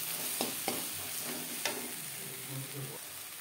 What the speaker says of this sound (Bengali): মশলার সাথে বেশ ভালো করে মিক্স করে দেব